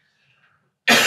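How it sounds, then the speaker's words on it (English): A man coughs once, a single loud burst near the end after near silence. "He's coughing."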